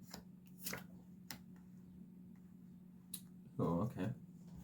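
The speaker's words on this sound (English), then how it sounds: "I'm going to get one more shuffle there." Tarot cards being shuffled by hand come through as a few soft, brief riffles and taps, faint and spaced apart, ending with a louder burst of card handling.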